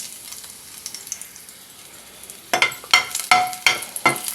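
Garlic cloves fry in plenty of hot oil in a pan: a soft sizzle at first, then from midway a burst of loud, sharp crackles and spatters in quick succession, with no talking.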